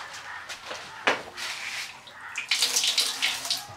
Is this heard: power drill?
no